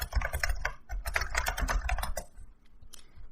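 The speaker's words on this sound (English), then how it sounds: "We just type google.com" Quick burst of typing on a computer keyboard, a dozen or so crisp close key clicks in rapid succession, then a pause and a couple of final taps.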